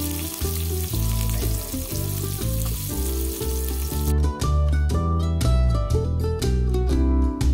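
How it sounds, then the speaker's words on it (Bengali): Chopped onion and garlic fry in soybean oil in a frying pan. A steady, close, dense sizzle runs throughout, and there is no talking. "দিয়ে দিচ্ছি পেঁয়াজ এবং রসুন কুচি।"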